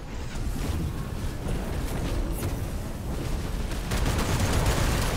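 Rapid tank machine-gun fire in the mech strategy game Phantom Brigade, a dense, continuous roar of overlapping shots that holds steady and grows slightly louder toward the end.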